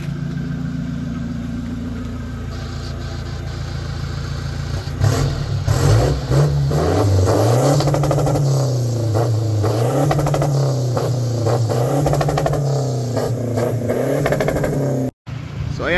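A car fitted with a Bidot exhaust and BP remap idles, then revs repeatedly in rising and falling surges from about five seconds on, loud and close, with a brief dropout near the end.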